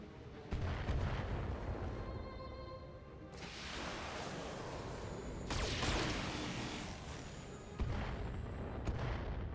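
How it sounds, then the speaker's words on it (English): Mortar hits land in the BattleTech video game, heavy booming impacts with rumbling tails arriving in several waves, loud and close. "Oh, really good mortar hits."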